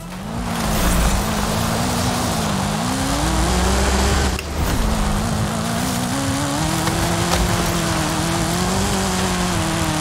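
A Camaro driving in Fortnite, its engine holding a loud, steady drone with slowly rising and falling pitch, broken by a brief dip midway, continuous with no voices.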